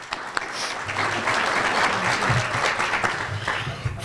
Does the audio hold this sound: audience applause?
yes